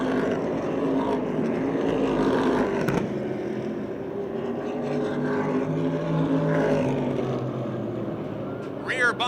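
Race cars roar down the backstretch at Motordrome Speedway, a steady blended engine drone heard from a distance with rising and falling tones as the field passes, under a faint crowd wash.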